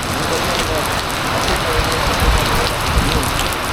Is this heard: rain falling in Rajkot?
yes